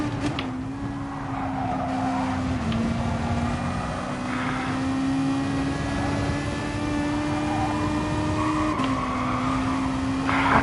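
A Toyota Supra race car engine in a racing video game drones at high revs, a sustained tone that shifts pitch with gear changes, loud and continuous, with faint tire noise and no talk.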